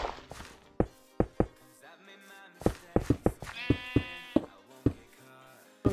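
Sheep in the video game Minecraft bleat a few times in short wavering calls, mixed with sharp knocking and chopping-like hit sounds from the game.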